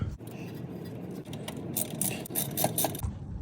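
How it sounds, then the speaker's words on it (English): Bolt on a BMW E36 brake caliper bracket being fastened back on, with a close run of metallic ratcheting clicks and small clinks, steady and fairly quiet. "And now I'm putting the one bolt back on, and here goes the other"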